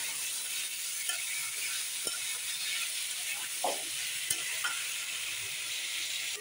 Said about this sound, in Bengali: এখন ভালো করে নেড়ে চেড়ে দিচ্ছে।